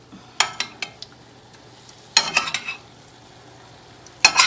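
Pieces of mahi-mahi are set back into a hot skillet, giving short crackling bursts of sizzle and clinks of a utensil against the pan in three separate spurts over a quiet background.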